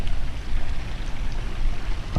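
Steady rain patters outside the Reagan Presidential Library in California beside a parking lot, a dense, even hiss of drops on hard surfaces filling the whole stretch with no voices.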